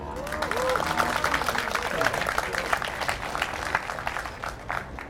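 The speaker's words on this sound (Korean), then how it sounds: "박수!" Audience at a Seoul Ignite presentation event breaks into steady, dense applause from a roomful of people, sustained clapping with scattered voices underneath.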